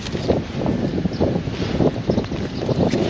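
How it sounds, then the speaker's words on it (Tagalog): Strong wind buffets the microphone in steady, loud gusts outdoors beside a Mitsubishi Xpander Cross GLS 2025, with rumbling low pulses and no talking. "Lakas ng hangin."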